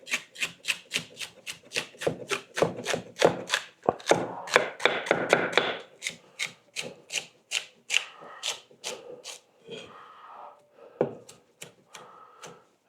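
A knife chops ingredients for homemade chicken broth on a cutting board, a brisk, steady run of close, crisp thuds, briefly quickening, then slowing to a few scattered cuts near the end, with no talking.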